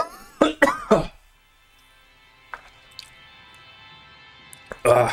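Several close, loud coughs and throat-clearing bursts from one person come in a quick cluster at the start, followed by quiet with faint clicks and another harsh cough at the end.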